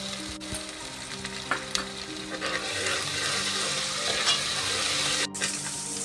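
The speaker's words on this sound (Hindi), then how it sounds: "अब इसके अंदर हम लहसुन अदरक की पेस्ट डाल देंगे।" Garlic ginger paste hitting hot oil with golden fried onions in a pan for halwa puri chickpeas, a continuous close sizzle and crackle with occasional stirring scrapes and no talking.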